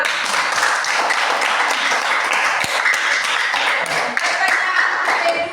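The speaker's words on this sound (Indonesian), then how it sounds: "Tepuk tangan." Applause from a classroom audience, a dense continuous wash of many hands clapping at steady loudness throughout, with faint voices mixed in.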